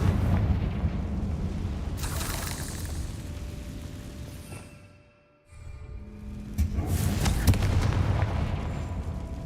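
Two blast spells exploding in the Hogwarts Legacy video game, with loud rumbling booms and crackling bursts, a brief near-silent dip, then another heavy eruption with sparkling ringing debris.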